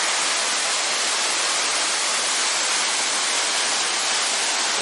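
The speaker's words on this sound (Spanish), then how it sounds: "Mucho ruido, por cierto, aquí en la cascada" Lágrima del Indio waterfall in Córdoba roaring as a steady, loud, broadband wash of rushing water, unbroken and close, with no voices.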